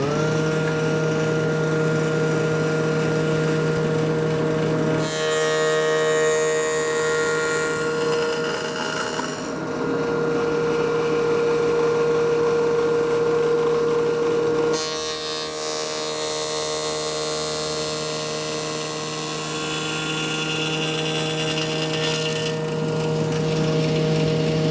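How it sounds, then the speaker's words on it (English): A blade cuts a notch in a wooden cigar box guitar, a steady loud mechanical whine and buzz running throughout, rising into harsher grinding passes at intervals, with an underlying hum. "So we're going to go ahead and cut that notch."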